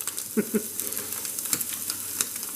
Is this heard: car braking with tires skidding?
no